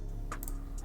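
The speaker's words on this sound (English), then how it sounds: "I'm just gonna type in a couple random letters" Quick keystrokes on a computer keyboard, a few close light taps in a quiet room.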